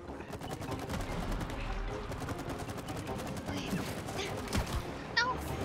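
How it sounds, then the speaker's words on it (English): Rapid bursts of gunfire from the video game It Takes Two, firing in quick repeated volleys over game noise, fairly quiet overall with a voice briefly in the mix. "Shoot it."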